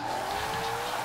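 Ford GT40 drifting in Forza Horizon 4, a steady high tire squeal sustained over a droning engine, loud and continuous for about a second with no talk.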